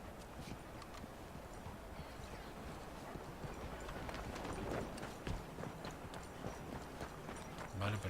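Horse hooves clip-clop steadily in Red Dead Redemption II, a continuous run of soft rhythmic hoofbeats at moderate distance over a faint outdoor ambience of wind and rustling.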